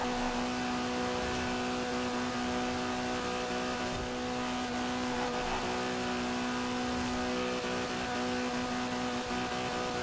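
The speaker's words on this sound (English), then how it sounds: "I hate the sound that maxed out cars make in this game" A maxed-out car engine in Forza Horizon 4 drones at a high, steady pitch throughout, sustained and strained as if held near its limit, with no talking.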